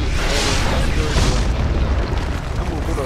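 A heavy boom rolls out as a tower is destroyed in a Dota 2 match, two broad blasts swelling and fading beneath an announcer's voice.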